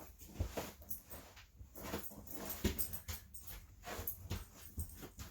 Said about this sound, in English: there's my dog scratching again